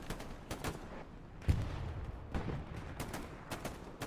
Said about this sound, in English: artillery going off right in front of him